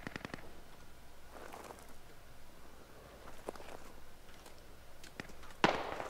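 Distant gunfire crackles through a SquadOps video game match on Operation: Crazy Horse, a few faint scattered shots and bursts spread apart with one sharper, nearer crack near the end, no talk.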